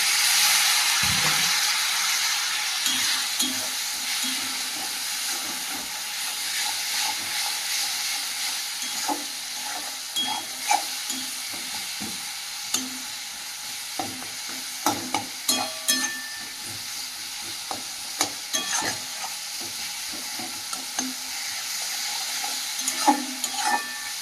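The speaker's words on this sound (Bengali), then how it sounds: "সামান্য জল দিয়ে দেবো দিয়ে মশলাটা কষিয়ে নেবো ভালো করে" Spice paste with Kashmiri chili powder and a splash of water sautés in a pan, hissing and sizzling steadily while a spatula clicks and scrapes in irregular bursts.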